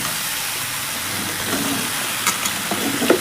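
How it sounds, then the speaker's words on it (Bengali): Onion stalks and two green chillies drop into a pan of six mixed vegetables already frying, bringing a steady hiss of sizzling oil with a few brief clatters near the end. "এবার দিয়ে দেবো পেঁয়াজ কালি"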